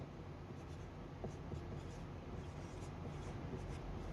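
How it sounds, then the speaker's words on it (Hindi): A pen scratches steadily across paper as figures are written out during a ninth-grade polynomials math lesson, a soft continuous scribbling close to the microphone over faint background hum. "तो लिखेंगे यहाँ पे लेट"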